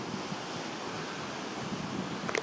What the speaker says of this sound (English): Had a headwind for this entire trip today so far.